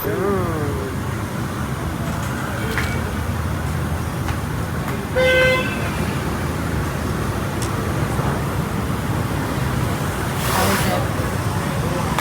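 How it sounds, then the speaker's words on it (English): Loud traffic noise at a busy street corner, with a steady roar of passing vehicles and a few short car horn toots over it. "we're right on the corner, and the traffic is loud, everything's loud"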